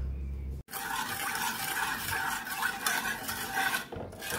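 Lemon syrup stirred in a pot on a stovetop plate, a steady close scraping and swishing that runs continuously for about four seconds after a brief pause near the start, with no voices.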